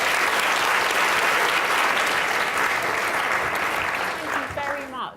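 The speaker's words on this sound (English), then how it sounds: "So give yourselves a round of applause." An audience claps at a live event, dense sustained applause that fades near the end as a voice starts speaking.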